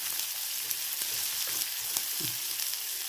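Sliced onions and curry leaves fry in oil in a pan, giving a steady close sizzle with occasional soft crackles and a brief stir.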